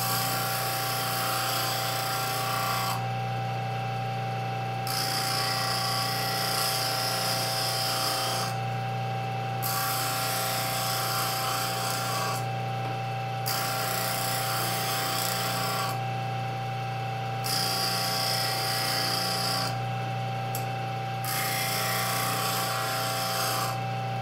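Grinding and sharpening a three-point tool produces a close, steady rasping hum, broken into repeated passes of several seconds with brief lulls between them, and no voices.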